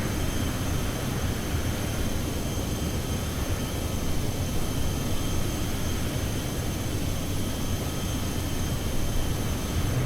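Steady, even broadband roar of a Cessna Citation X jet cruising at flight level 390 in MSFS 2024, with faint tonal hum, a constant drone that does not change for the whole stretch and carries no voices.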